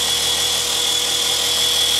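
A model helicopter rotor blade setup runs at full throttle on a thrust test rig, giving a steady, loud, close whir with a constant high whine and no break for the full length, with no talking.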